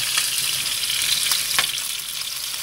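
A hamachi fish collar fries in a wok with a steady, close oily sizzle and crackle, crisp pops standing out now and then over the continuous hiss.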